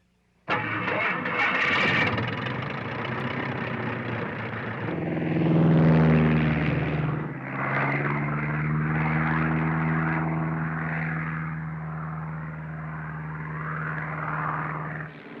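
A small propeller plane drones steadily, its engine pitch rising and falling slightly as it flies, loud and close with no voices.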